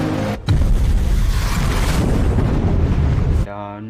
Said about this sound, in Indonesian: Dan bom pun meledak.